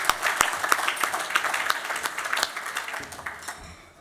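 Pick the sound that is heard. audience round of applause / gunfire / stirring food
audience round of applause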